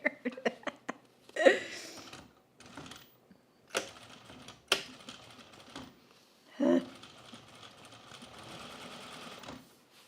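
Sewing machine with a zipper foot stitching jeans, running in short bursts and longer steady whirring runs separated by pauses, with clicks and handling noises between.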